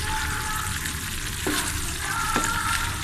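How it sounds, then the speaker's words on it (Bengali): A spoon stirs and mixes sweet pumpkin vegetables with egg in a hot pan over a steady, loud sizzle, with a couple of brief scraping strokes against the pan close up. "এখন আবারও ভালোভাবে নেড়ে দিচ্ছি, ভালোভাবে মিশিয়ে দিচ্ছি সবজিগুলোর সঙ্গে"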